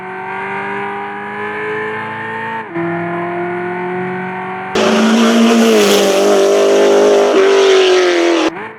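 Fiat 500 city car fitted with a 500 hp V8 driven hard, loud high-revving engine notes with a gear change, then a harsher screaming section with tire squeal before cutting off.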